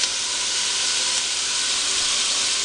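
Diced bacon lardons browning in a Dutch oven, a steady broadband sizzle and hiss that holds evenly loud and close throughout with no talking.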